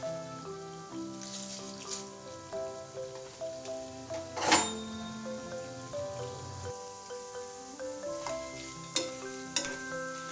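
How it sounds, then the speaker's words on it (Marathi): Flattened rice poha frying in hot oil for a crisp khamang bhurka, a steady sizzle under bright metallic stirring clinks, with a louder burst near the middle and no talk. "आता हे पोहे यामध्ये टाकून आपल्याला पोहे तळून घ्यायचे आहेत"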